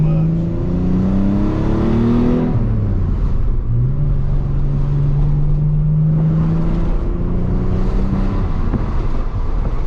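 A turbocharged Nissan 300ZX conversion accelerates hard with a loud engine drone that rises in pitch, drops at a shift, then climbs again, inside the car, with a faint whistle from a boost leak over the engine.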